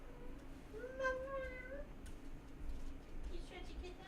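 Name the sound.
cat meowing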